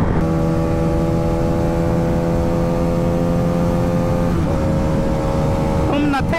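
A Honda CBR 250R and a Hero Karizma XMR210 race at full throttle in sixth gear, a loud steady engine drone with strong harmonic whine held throughout and a brief pitch shift near the end.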